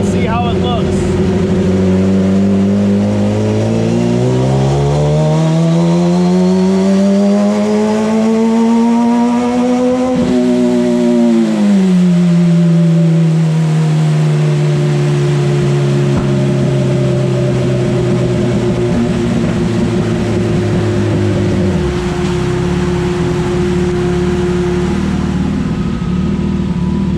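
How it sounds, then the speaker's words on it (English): A 2016 Suzuki GSX-R1000 engine on a dyno runs a partial throttle pull, its steady drone rising in pitch, easing back, then holding a long even tone before dropping off, loud and continuous. "we're gonna do another partial throttle pull"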